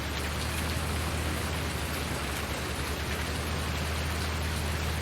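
Steady rain falling in the Farming Simulator 19 video game, a dense, constant hiss of drops on surfaces that never lets up, with a low rumbling hum beneath.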